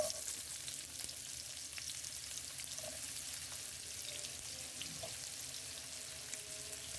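Onion frying in oil in a cooking pot with sugar and cardamom, a faint, steady sizzle running continuously and evenly with no talk over it.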